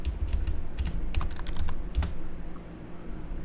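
Someone types a folder name on a computer keyboard, producing a quick run of close, crisp keystroke clicks in uneven bursts with brief pauses between them.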